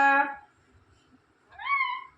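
A pet parrot mimics a cat's meow in two drawn-out, nasal calls separated by a short quiet gap, close to the microphone and heard alone with no talking.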